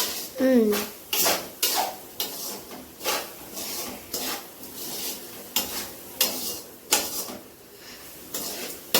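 A Rayuthiri snack mixture with onion, chilli and tomato being stirred in a pot, giving a regular run of scraping, clattering strokes roughly every second, with a brief voice near the start.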